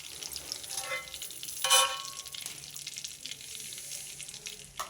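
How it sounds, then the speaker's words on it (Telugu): Tempering spices sizzle in oil in a kadai for a bitter gourd curry, giving a soft, low crackle with one sharper burst of spitting partway through. Nobody talks. "ఇందులోనే తాలింపు వేసుకుంటా"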